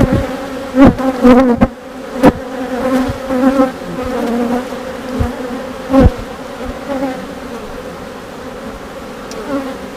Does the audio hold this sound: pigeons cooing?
no